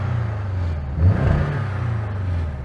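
A Porsche Cayman with the 4-cylinder engine and sports exhaust revs in one steady, droning low rumble, swelling slightly near the middle, close and loud with no talking.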